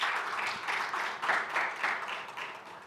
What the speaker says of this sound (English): I think you deserve a round of applause for the hard work.